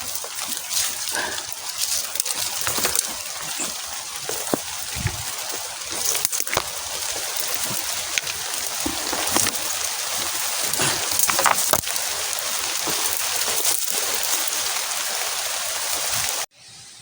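Steady rain hisses and patters on surfaces all around, dense and continuous, with scattered louder drips and knocks before it cuts off abruptly.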